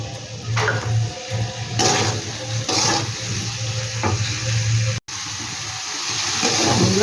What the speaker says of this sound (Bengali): এই বাটিটা দিয়ে একটু জল দিয়ে দিচ্ছি।